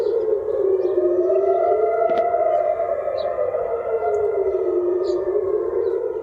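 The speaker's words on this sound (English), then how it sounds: "explosions reportedly were also heard near Jerusalem, prompting sirens in the region." Air raid sirens wail across Jerusalem, a loud sustained tone that slowly rises and falls in pitch, steady and echoing with faint distant clicks.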